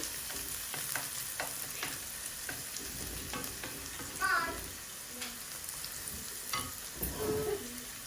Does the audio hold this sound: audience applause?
no